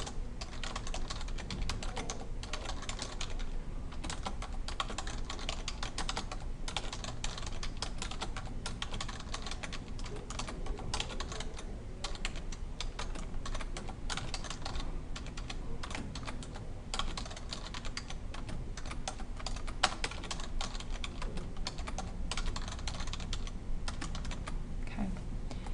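Dense, continuous clatter of keys on a computer keyboard during spreadsheet work, quick quiet taps running the whole way with no pauses and no speech.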